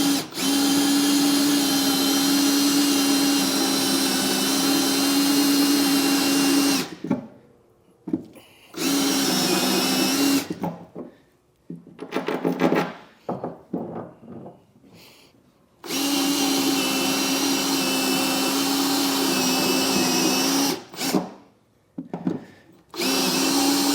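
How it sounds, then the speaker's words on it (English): A vacuum cleaner runs loudly and steadily while picking up metal drill shavings during a fifth wheel trailer hitch installation, switching off and on again with quiet gaps and a few knocks between runs. "go ahead and vacuum up the shavings"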